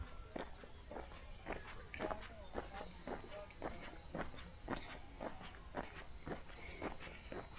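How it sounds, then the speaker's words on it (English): Crickets chirp steadily in a high, continuous trill in a Kenyan forest, with regular footsteps crunching along a path underneath. "there are a lot of crickets."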